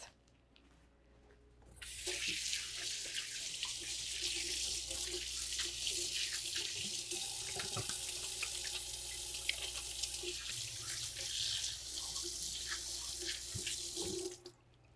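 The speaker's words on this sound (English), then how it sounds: "I'm going to wash my hands as soon as I finish this before I actually cook them" Hands are washed under a running tap before cooking, a steady, close rush of water that starts after a short pause, runs for about twelve seconds and then cuts off.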